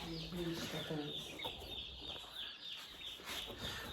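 Cornish Cross meat chickens cluck softly in short, scattered bursts, with faint chirps and rustling around them, somewhat distant and low in level.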